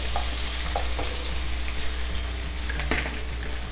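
Onion, garlic and potatoes sauté in a pan for hotdog afritada, a steady close sizzle and crackle with occasional stirring scrapes, with no talk.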